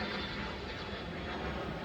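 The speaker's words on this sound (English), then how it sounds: "of course there's an airplane" An airplane passing overhead above a spring garden, a broad continuous engine roar that stays steady and loud throughout with no talk.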